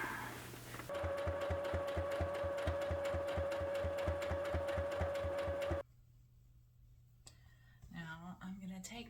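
A sewing machine runs steadily for several seconds with a fast, even mechanical rhythm as it stitches down the fold of a fabric crossbody bag, then stops, and a voice speaks faintly afterward.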